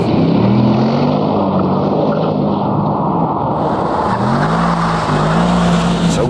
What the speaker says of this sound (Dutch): Misschien kunnen we een klein stukje van de V8 laten horen.